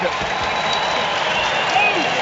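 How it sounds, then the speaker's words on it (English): A rugby crowd at the Scotland versus USA Autumn Nations match in 2025 applauds Darcy Graham as he leaves the field, giving a dense, steady wash of clapping from the stands with a voice over it. "the applause as the crowd, 1 or 2 of them standing as well, clapping, hands above their heads, acknowledging Graham's contribution"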